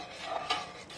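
Corn grits porridge stirred in a pot, soft close scraping and swishing of a spoon through the thick mixture, with two brief louder strokes.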